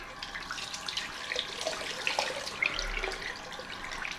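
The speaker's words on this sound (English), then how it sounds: "cold rinse time." Tap water running steadily into a sink for a cold rinse after a shave, a soft, continuous splashing flow heard at low level with no talking.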